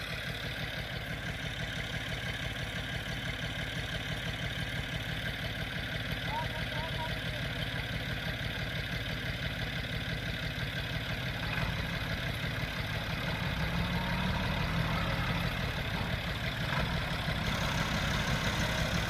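A Bull Power 549 tractor hitched to a loaded potato trolley idles steadily, a constant low diesel rumble that holds unchanged for the whole stretch and swells slightly toward the end.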